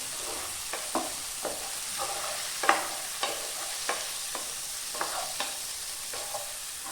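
Tomato and onion fry in a pan for coconut-ground chicken curry, with a continuous sizzle. A spoon scrapes through the pan in regular stirring strokes roughly every half second, close up and without talk.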